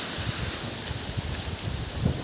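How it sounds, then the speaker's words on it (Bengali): Strong wind blowing outdoors at night by a farmyard with free-range native chickens as a monsoon storm starts; a steady broadband rush with low gusty rumbles from buffeting, continuous and fairly loud throughout. "হাওয়া হচ্ছে জোরে।"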